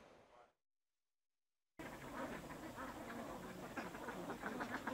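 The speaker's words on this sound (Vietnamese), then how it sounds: "Đây là hệ thống ao hồ dùng để làm khu vực chăn thả của hàng nghìn con vịt bầu" Muscovy ducks quack on a farm pond where thousands are raised in Nghe An, Vietnam; a brief sound, then a gap of silence, then a steady chorus of many birds at moderate distance.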